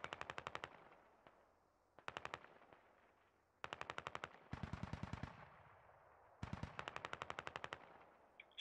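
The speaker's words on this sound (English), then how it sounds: "Squad 3 is laying out sporadic fire as well." Bursts of automatic machine-gun fire from a military shooter game ring out in several rapid strings separated by short pauses, crisp and fairly close, with no talking.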